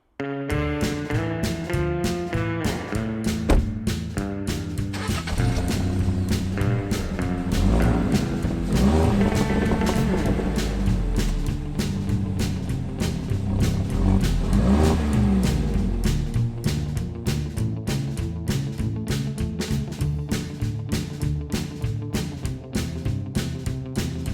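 Fiat 500C Hybrid's FireFly 1-liter three-cylinder mild-hybrid engine revs hard and steady, a loud raspy drone rising and falling over a long stretch with no talking.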